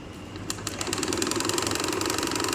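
A sewing machine stitches a blouse at close range, its needle clattering in a fast, even rhythm that starts after a moment and runs on steadily.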